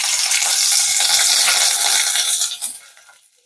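Curry leaves dropped into hot oil with cumin and mustard seeds for a Marathi tempering, giving a loud, dense crackling sizzle that fades sharply near the end.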